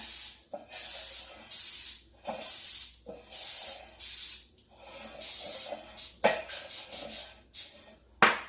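Grease sprays into a baking pan for banana bread in repeated short hissing bursts, about a dozen close spritzes in an uneven rhythm, the final few coming in quicker succession.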